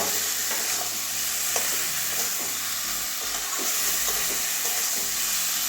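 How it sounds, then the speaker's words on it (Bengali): A mushroom, soybean and potato curry is stir-fried in a pan, giving a dense, constant sizzle with repeated scraping stirs close by; no speech. "ভালো করে এবারে ভেজে রাখা আলুটাও দিয়ে দেবো সবগুলো একসঙ্গে কটিয়ে নেব"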